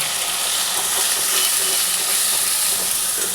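Spice paste with ginger and tomato fries in a pan for dhokar dalna, giving a loud continuous hiss and sizzle with no pauses.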